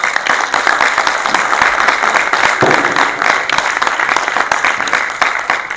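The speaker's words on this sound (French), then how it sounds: "Merci infiniment, on peut les applaudir." Dense, loud applause from a large audience at a round-table session on eco-mobility at an innovation event in the Vosges, steady sustained clapping throughout with no talk.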